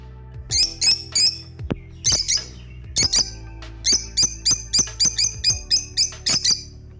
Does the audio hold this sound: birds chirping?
yes